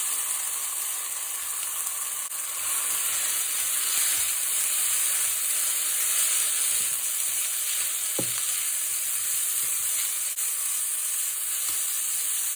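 Carrot sizzles in hot oil mixed with a garlic and thyme puree, a steady, bright frying hiss that runs unbroken throughout, with a couple of faint utensil clicks and no talking.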